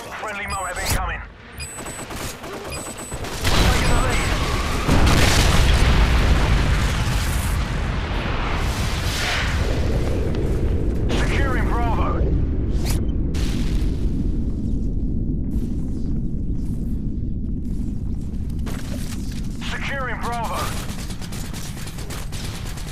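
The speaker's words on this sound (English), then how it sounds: "Friendly MOAB incoming." A MOAB detonation in the game Call of Duty: Modern Warfare 2: after brief gunfire, a massive explosion erupts into a long, roaring low rumble that slowly fades, with scattered shots and game voice callouts heard over it.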